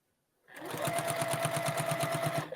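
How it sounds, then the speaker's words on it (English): A sewing machine fitted with a walking foot stitches through the layers of a quilt in one steady, close, fast-pulsing run of needle strokes lasting about two seconds. "keeping your walking foot on helps too, just because there's so many layers you're sewing through"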